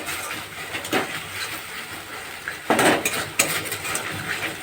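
Cumin powder being stirred into a paneer curry in a pan, giving a steady sizzling hiss with soft scraping and clinks of the spoon against the pan, growing louder with bursts near the end.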